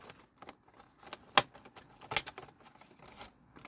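Plastic seed cell trays for growing peas snap together, giving two sharp clicks with lighter rattling and handling noise between them, close by and alone.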